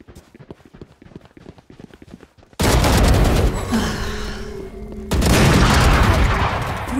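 Missiles explode in the shooter game Valorant: a loud, sustained blast erupts after a quiet stretch of faint clicks, and a second heavy burst follows moments later, both close and booming.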